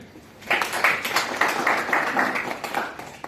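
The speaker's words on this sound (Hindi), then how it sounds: "तालियां" Clapping from an audience at a sales pitch session for an air purifier: a brief round of dense, irregular claps, moderately close, lasting about three seconds with no talking over it.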